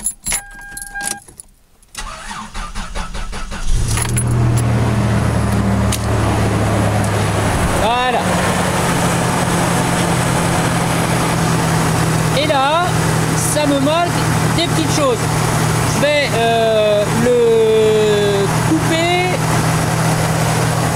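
A car engine cranks and catches at about four seconds, then settles into a steady, loud idle with a low rumble, checked with a Konnwei car battery tester. Keys jangle before the start, and brief speech is heard over the running engine.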